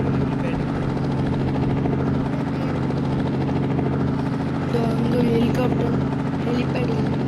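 A helicopter in the video game Indian Theft Auto Simulator gives a steady rotor drone with a low engine hum, continuous and fairly loud throughout, with faint voices talking underneath.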